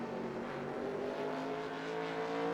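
Modified race car engine in NASCAR Racing 2003, a steady buzzing drone holding at high revs throughout, close and continuous with no talk.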